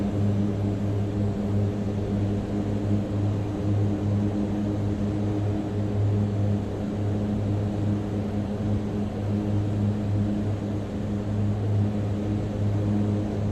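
Mitsubishi MU-2 turboprop cruising at altitude in a flight simulator, giving a steady, loud, droning engine and propeller hum with strong tonal bands that holds unchanged throughout.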